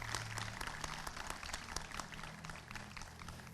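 Audience applause at a Korea University anniversary ceremony: a steady, dense patter of many hands clapping from a large crowd throughout, moderately loud and filling the hall.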